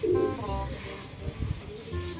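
Pigeons coo softly in a low, throaty rhythm, mixed with background noise and a murmur of voices.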